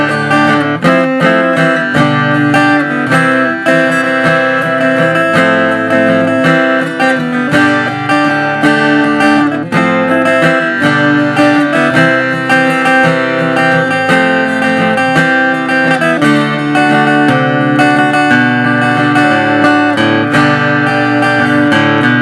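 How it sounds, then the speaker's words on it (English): An acoustic guitar played through a Fishman Loudbox Mini amplifier strums full, continuous chords at a loud, even level, with no talking. "that's the sound of the Fishman Loudbox Mini"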